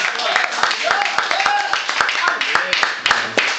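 An audience claps at an outdoor beach Christmas show, a dense patter of hand claps with sharp individual slaps standing out, close and steady throughout.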